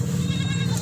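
A goat being loaded for cargo transport at a goat farm bleats steadily and close by, a strained, continuous call with a low rumbling background.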